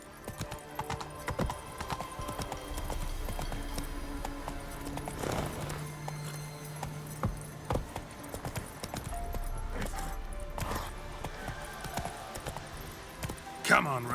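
Roach, Geralt's horse in The Witcher 3, gallops with a steady clip-clop of hooves and a brief whinny, while a voice talks over the hoofbeats.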